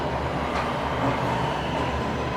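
A train rolls past on Shuter Street in Toronto, a loud, steady broadband rumble with wheel and track noise filling the whole moment, close by and without talk.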